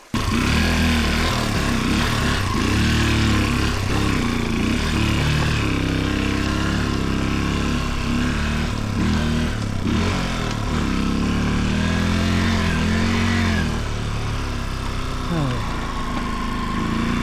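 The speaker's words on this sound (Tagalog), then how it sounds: "Nagloloko yung motor, ayaw magsegunda." A small trail motorcycle engine with a faulty transmission that won't engage second gear runs and revs unevenly up close, rising and falling in pitch, with a voice talking over it.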